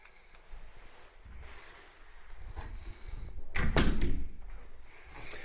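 Walk-in cupboard door in a house being opened, a soft creak and a short thud near the middle, fairly close and fairly quiet in a still room.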